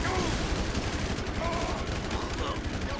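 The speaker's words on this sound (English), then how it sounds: "somebody behind me shooting too?" Dense, continuous enemy gunfire from a GTA 5 gang-war mod, rapid shots blending into a loud sustained fusillade with no clear gaps.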